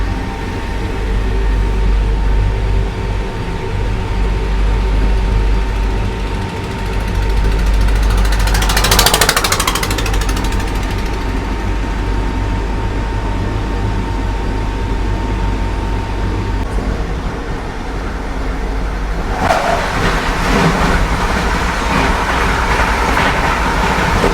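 The Vande Bharat Express rolls over the Betwa river, a loud, continuous rail rumble heard from inside the carriage with rhythmic wheel clatter and two brief whooshing swells.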